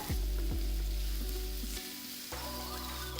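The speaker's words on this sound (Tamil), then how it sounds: "வெங்காய கலவையை பேனில் போட்டு நல்லா வதக்குங்க." A loud, steady sizzle of an onion mixture frying in hot oil until golden, with a few clanks of a spoon stirring the pan, close up.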